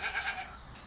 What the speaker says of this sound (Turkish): Bunlar keçilerimiz.